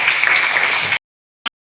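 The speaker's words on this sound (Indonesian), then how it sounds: "Kasih tepuk tangan lagi buat Jennifer" A classroom of students gives a brief burst of applause for a classmate, loud dense clapping that cuts off abruptly, followed by silence and one short sharp sound.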